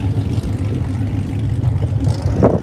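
A loud car engine rumbles close by at a car meet, a deep steady growl that rises toward the end as it revs.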